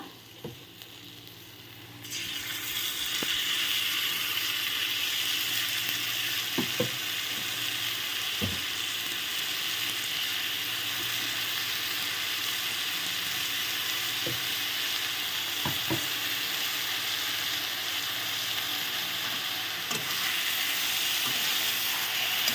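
Ground spice paste fries in a pan for chal potal, a quiet start giving way after two seconds to a loud, steady sizzle with occasional sharp clicks and scrapes of stirring, no voices.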